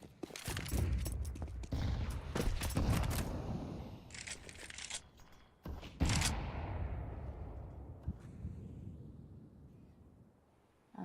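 Rifle fire in a Counter-Strike-style ESL Challenger League esports match, with repeated bursts of shots through smoke, loud and close at first, then fading into quieter scattered cracks and ambient game noise.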